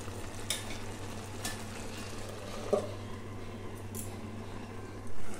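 Prawns and spinach curry simmers in a pan over low heat, a soft, quiet sizzle with a faint steady hum beneath and an occasional light scrape.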